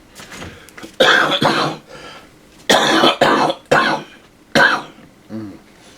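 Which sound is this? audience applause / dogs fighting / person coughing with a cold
person coughing with a cold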